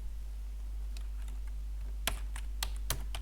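Typing on a computer keyboard during an online interview with audio problems: faint scattered key clicks at first, then a few sharper, louder keystrokes near the end, over a steady low electrical hum.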